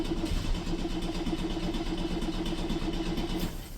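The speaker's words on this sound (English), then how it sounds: "The engine should sound much better, shouldn't it? It shouldn't have that weird rattle." A Nissan S-Cargo engine runs after a coolant top-up, a steady mid-pitched hum with a fine regular pulsing, close and constant before easing slightly at the end.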